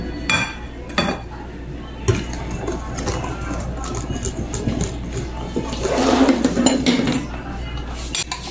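A utensil clinks and scrapes against a bowl while rice-flour putong bigas batter is stirred, with scattered knocks and a busier stretch of mixing, alongside a voice.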